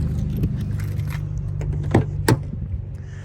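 Car keys for a Renault Koleos 2.0 dCi jingle and clink close by in a few light bursts over a steady low engine hum, with two sharper metallic clicks.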